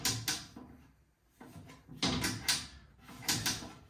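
Loose door on a simple vintage sideboard with a metal frame, sliding back and forth several times with scraping, rattling knocks and brief pauses between movements, heard up close.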